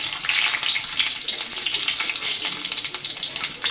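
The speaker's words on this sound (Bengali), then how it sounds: "লঙ্কা আর রসুনটাকে ভালো করে ভেজে নেব।" Whole chillies and garlic frying in hot oil in a pan, a loud continuous close-up sizzle with crackling spits throughout.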